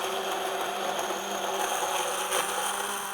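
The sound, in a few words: immersion blender blending aioli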